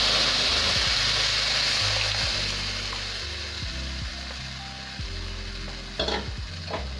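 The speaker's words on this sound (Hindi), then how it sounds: "तो अब चलिए जो घोल बना के रखे थे उसे डाल देते हैं।" Kadhi batter pours into a hot tempering with asafoetida and is stirred, giving a steady sizzle with soft scraping stir strokes and a couple of brief clatters near the end.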